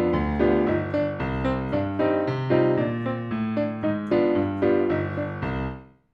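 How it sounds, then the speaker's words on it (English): A solo piano plays a tango passage with a legato left hand. Connected bass notes sustain under chords for about six seconds, moderately loud and close, and fade out at the end. "If we read that as a legato,"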